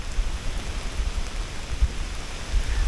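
Steady rain falls outdoors, a dense, even hiss with soft low patter that holds for the whole stretch, close and fairly loud, with no voices.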